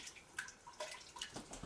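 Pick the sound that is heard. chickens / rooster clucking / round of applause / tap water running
tap water running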